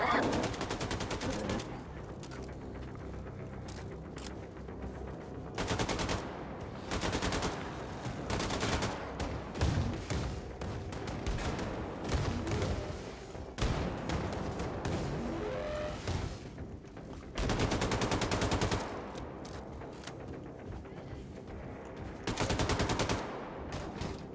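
Sustained bursts of automatic gunfire from a weapon in Wolfenstein II, loud and dense with short gaps between volleys, rattling continuously throughout.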